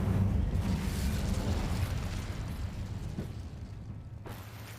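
An Incendio fire spell cast in a Harry Potter-world video game, a sustained whooshing burst of flame, fairly loud at first and tapering off, with a short crackle near the end.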